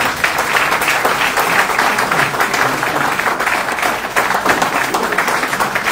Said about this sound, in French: J'aimerais qu'on lui adresse une minute d'applaudissement